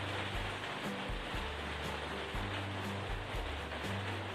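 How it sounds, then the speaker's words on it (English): Steady rain falls outdoors in a potato-growing garden, a dense continuous hiss of drops with low rumbling underneath and no talking. "Listen to that rain."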